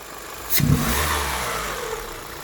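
An Opel Astra 1.6 115 HP engine with a pulling-power fault revs up sharply after a brief click, then holds a steady elevated hum before easing slightly; close and fairly loud.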